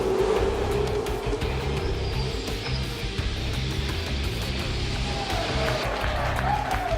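Race cars starting the 2013 Bathurst 1000 in Forza Motorsport 5, a dense roar of many engines accelerating together with rising whines passing through, loud and continuous.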